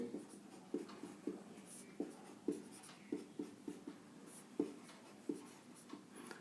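A pen scratches out math working on paper during a Class 10 quadratic formula exercise. Short, quiet strokes come in a fairly regular rhythm, close up and with no voice over them.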